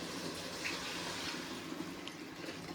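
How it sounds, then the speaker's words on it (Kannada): Hot water poured at home while mutton biryani is being cooked, a soft, steady gushing stream heard faintly and continuously with no voices. "ಇವಾಗ ಬಿಸಿನೀರು ಹಾಕಿದ್ರು ನಮ್ಮಮ್ಮ"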